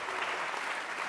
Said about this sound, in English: 2 rounds of applause